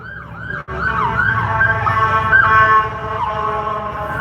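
An ambulance siren wails loudly and continuously, its rising and falling tone sweeping over a rumble of passing traffic.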